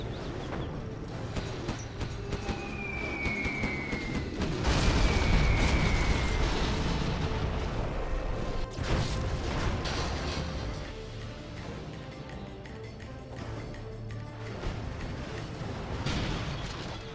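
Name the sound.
carpet bomb explosions in a video game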